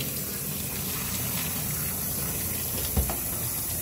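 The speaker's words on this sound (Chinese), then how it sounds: "那一边倒同时，其实一边冲水" Running tap water rinses as diluted, melted agar from discarded petri dishes is poured out, a steady broadband gush and splash throughout with a brief louder splash near the end.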